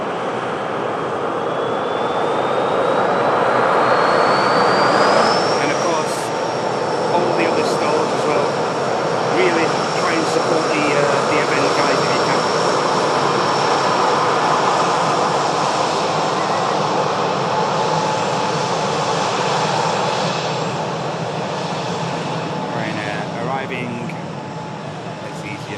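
Saudia airliner taxiing at an airport, a loud continuous engine roar and whine with a rising tone early on, sustained throughout; a voice talks over it.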